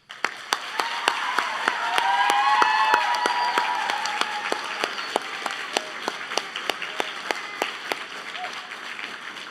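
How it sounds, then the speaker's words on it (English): Graduating students at a secondary school graduation ceremony applauding their families and staff; a swell of crowd clapping and light cheering that builds, then thins out into sparse, evenly spaced single claps toward the end. "Let's take a moment to acknowledge the contribution and support of your families and our staff by you giving them a round of applause"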